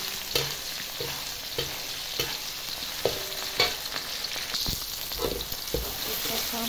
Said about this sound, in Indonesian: kita oseng-oseng dulu bumbunya sampai daunnya harum bunda-bunda